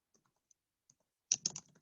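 Quick bursts of typing on a computer keyboard, a few soft isolated taps followed by a short cluster of crisp keystrokes near the end, close and quiet with no voices.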